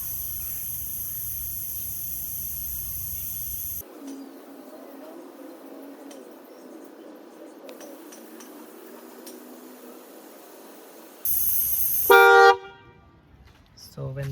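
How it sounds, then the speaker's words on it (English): A Mahindra BE 6 electric car sounds its horn during tire pressure sensor learning after air is let out of the front left tire, giving a loud short honk near the end that follows a stretch of quiet ambient noise. "then the car will honk."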